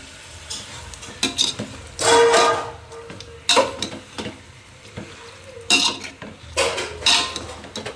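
Chicken pieces for dum biryani are stirred in a pot, with a spoon scraping and clanking against the metal in irregular bursts over a soft sizzle.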